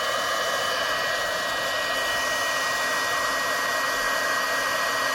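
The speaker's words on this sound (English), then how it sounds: "We're going to make some noise and heat this powder up." Handheld craft heat tool blowing a steady, loud whooshing hiss without pause while melting embossing powder on a wedding card, close up with no talking.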